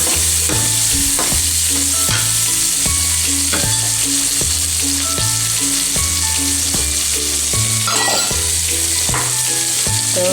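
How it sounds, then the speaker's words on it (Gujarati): Tomatoes and onions frying in oil for a Rajasthani mung bean curry, with a loud, continuous sizzle and rhythmic scraping strokes as a spoon stirs the pan. "ટમેટા ડુંગળી સરસ સાતળી જાય એવી રીતના આને સરસ તેલમાં પકાવવા દેવાનું છે"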